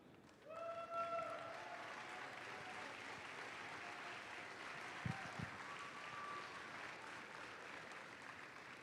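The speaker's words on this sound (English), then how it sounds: "Please give them a warm round of applause." A crowd at a FIRST robotics district competition in Troy applauds the judges, a sustained, distant wash of clapping across a large hall that holds steady for several seconds, with a brief thump midway.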